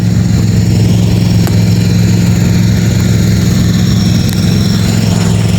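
A quad bike engine idling after a cold start, a steady low chugging rumble that stays loud and even throughout, close by with no voices.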